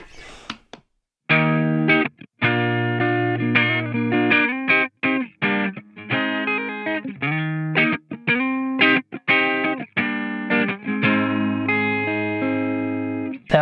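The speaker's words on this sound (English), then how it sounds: "That was the neck pickup." A Fender Duo Sonic electric guitar played through its neck pickup, plucked notes and chords ringing out in a melodic phrase with short gaps between bursts, close and clear with no talk.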